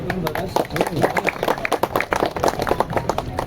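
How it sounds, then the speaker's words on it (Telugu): Dense, steady crowd applause at the inauguration of a new shopping complex by an MLA, with Congress party leaders and officials present; rapid overlapping claps run throughout, mixed with voices. "చప్పట్లు"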